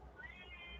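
A cat meows once, a soft, close mewing sound with a faint background hum and no talk over it.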